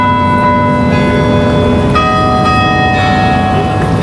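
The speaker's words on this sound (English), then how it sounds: "The bells of Oslo City Hall play different tunes all the time." Oslo City Hall bells ring out a tune, loud sustained chimes overlapping as new notes strike about once a second, with no talking.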